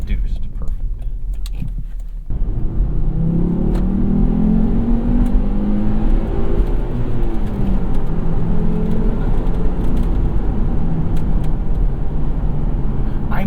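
A 2007 Volvo S60R sedan with a six-speed manual gearbox accelerates hard, its engine rising in pitch through the gears as a loud, sustained growl heard from inside the cabin.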